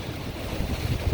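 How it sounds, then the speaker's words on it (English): Strong hurricane wind from Hurricane Ida roars and buffets outdoors in a short, continuous rush with low gusting rumble and no voices. "Hurricane Ida has made landfall, and yeah, it's real fucking windy."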